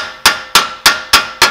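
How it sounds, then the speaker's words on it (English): A hammer gently taps a wheel hub out of a VW Transporter, five sharp metallic strikes spaced evenly about a third of a second apart, close and loud with no talk. "using your hammer, we're going to work one way, then the other, one way, then the other. Gently tap it"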